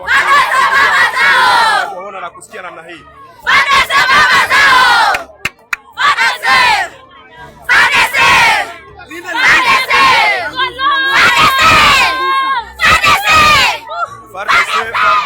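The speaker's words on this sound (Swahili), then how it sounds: "Hivyo wananchi wanazidi kuimba na kushangilia wa jeshi la taifa" A large crowd welcoming national army soldiers sings, chants and cheers in loud repeated surges with shrill shouts and children's voices, separated by brief quieter gaps with talking.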